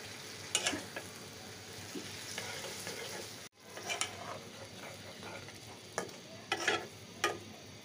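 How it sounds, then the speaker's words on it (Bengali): Steady sizzling of fish frying in oil in a pan, close and continuous, with occasional louder crackles and scrapes of a utensil. "মাছ দিয়ে দিচ্ছি"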